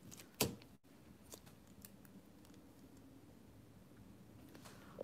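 Scissors snip through rose gold nail foil, one sharp close cut at the start followed by fainter intermittent snips and rustling as the cutting continues in a quiet room.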